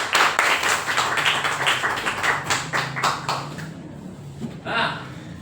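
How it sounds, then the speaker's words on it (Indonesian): Classroom applause for a student named Dewi, a run of quick, close hand claps from a group of pupils that thins out and fades toward the end, with a brief faint clatter afterward. "Tepuk tangan lagi untuk Dewi."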